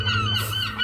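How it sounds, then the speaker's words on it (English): Young seagulls call out in a garden beside a compost bin, their honking, squawking cries continuous and fairly close across a short stretch, with no talking. "we have some baby seagulls around"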